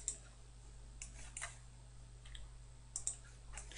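Computer mouse clicks while placing bifold doors in a Revit hotel project: a handful of faint, sharp clicks, some in quick pairs, spaced irregularly over a low steady hum with no talking.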